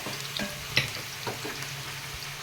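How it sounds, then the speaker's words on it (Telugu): Chicken leg pieces sizzle and fry in a pan as curry is cooked, a steady crackling hiss with occasional brighter pops and a few stirring clatters, fairly close and not loud. "వేగినాయండి ఇవి. ఇంకొంచెం వేగనిద్దాం."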